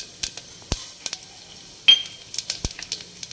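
Mustard seeds, chana dal and cumin frying in hot oil for a tempering: scattered sharp crackles and pops, one burst louder than the rest, over a faint sizzle, close by and without speech.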